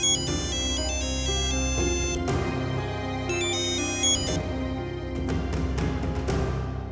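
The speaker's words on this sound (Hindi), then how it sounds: "अरे मेरा फोन है, देखिए ना कौन है" A melodic mobile phone ringtone plays loudly and steadily, repeating its tune over a backing beat, with no one speaking.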